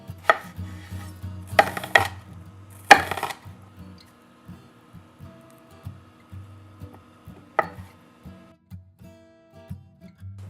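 A knife chops red onion and other salad vegetables on a cutting board in a home kitchen, giving a few loud bursts of rapid strokes early on, then quieter, evenly spaced single cuts and taps.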